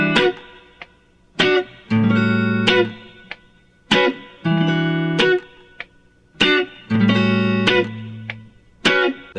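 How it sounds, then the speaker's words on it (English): Electric guitar chords for a song strummed in a steady four-count pattern, each chord followed by a bright, crisp fingernail brush across the high strings, with effects and sustain. "I use my nails to strum the high strings like this"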